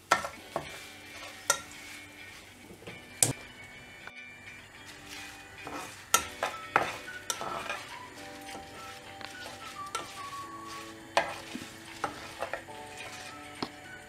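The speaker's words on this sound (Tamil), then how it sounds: "இப்போ இதில் கருவேப்பிலை ஆட் பண்ணிடலாம் இதையும் பொரிச்சு எடுத்துடலாம்" Curry leaves frying in hot oil while kara boondhi is made. Sharp crackles and pops burst irregularly over a quiet sizzle, with occasional clinks of a utensil against the pan.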